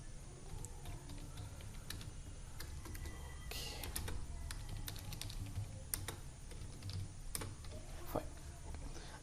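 Router commands typed on a computer keyboard: a steady run of quick, close key clicks with occasional heavier keystrokes, over a low background hum.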